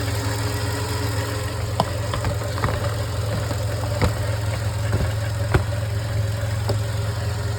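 A Skoda Octavia A5 1.6 petrol engine idles with a steady low rumble, broken by a few faint ticks and clicks, close by with no talking.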